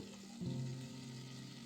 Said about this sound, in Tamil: ஒரு பாத்திரத்தில் ஆயில் தாளிப்பு வடகம் கூடவே கொஞ்சம் கறிவேப்பிலை